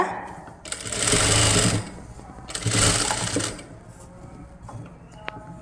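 A sewing machine runs two loud bursts of rapid stitching along a kids' crop top neckline, separated by a pause, with a voice speaking softly in the gaps.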